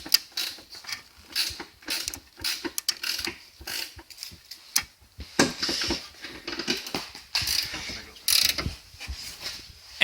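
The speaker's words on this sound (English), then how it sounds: "we're going to tighten this down and tighten the one on the bottom down now without removing the jack" Engine mount bolts on a Chrysler PT Cruiser 2.4 are tightened with a ratchet while a jack stays under the engine, heard as irregular clusters of close ratcheting clicks and metallic creaks with pauses between strokes, with no talking.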